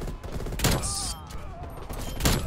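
A quick burst of gunfire rattles out in a multiplayer shooter game, a few fairly quiet sharp shots mixed with game effects and faint voices.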